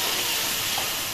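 Finely chopped onion frying in hot oil in a home kitchen, a dense, steady sizzle and hiss that stays level and close for the whole short stretch.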